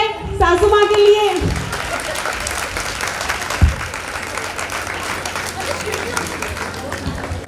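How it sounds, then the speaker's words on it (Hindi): A performance audience claps for the mother-in-law. The applause swells loud and sustained after a spoken line at the start, with a single thump midway. "एक क्लैपिंग हो जाए सासू माँ के लिए।"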